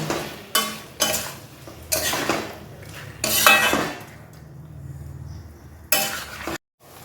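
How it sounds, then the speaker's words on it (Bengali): A spatula scrapes and clatters against a pan while boiled eggs are sautéed and stirred into a masala for egg bhurji, several loud bursts of metallic stirring with sizzling in between, close up, ending in an abrupt cut to silence. "এবার এই বয়েল এগুলো আমি এর মধ্যে দিয়ে দেব দিয়ে আর কিছুক্ষণ একসাথে সব কষিয়ে নেব"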